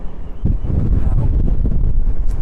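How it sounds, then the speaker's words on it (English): Strong wind buffets the microphone on a cruise ship balcony aboard the MSC Virtuosa in a steady low roar, gusting continuously with no voices. "just for the purpose to show you how windy it is out on the balcony"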